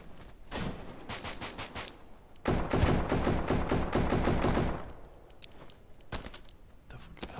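Pistol fire in the video game Deadside rattles out in dense, loud rapid bursts, a long run of shots with a brief gap, then scattered single shots and thuds trailing off.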